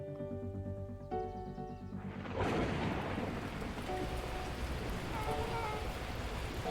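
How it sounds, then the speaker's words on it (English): Torrential rain bursts in with a heavy rolling crash of thunder, then a dense, loud roar of downpour continues steadily, following a brief quieter musical stretch at the start. "the heavens opened up, unleashing torrential rain"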